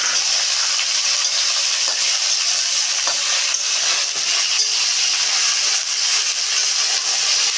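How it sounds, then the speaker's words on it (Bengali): Ingredients for sambar fry in a pan, giving a continuous, even sizzle that fills the whole stretch, with occasional faint stirring clinks and no voices. "দেখো এই যে ভাজা হচ্ছে"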